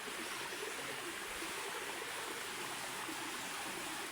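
A stream rushes steadily at a bend in a creek, producing a continuous broadband wash of flowing water with no pauses or voices.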